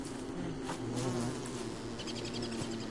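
Bees buzzing in the survival video game Don't Starve, a steady droning hum with layered tones that holds throughout, fairly loud and close, with no talking over it.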